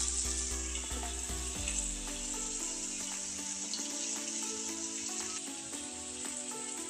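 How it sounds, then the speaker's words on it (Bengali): Bitter gourd frying in oil in a home kitchen pan, a steady close sizzle and crackle running throughout with a few light stirring clinks, no talk. "এখানে উচ্ছে ভাজা হচ্ছে"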